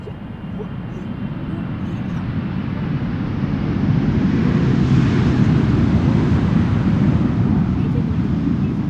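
A KLM Asia airliner at Schiphol Airport, a broad deep engine roar that builds steadily and stays loud and close to the end, with no talking.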